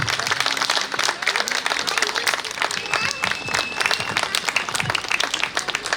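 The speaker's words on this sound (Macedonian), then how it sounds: "Аплауз за сите" Audience applause at a picture-book launch in Skopje, a dense, steady wash of many hands clapping throughout, with some crowd murmur mixed in.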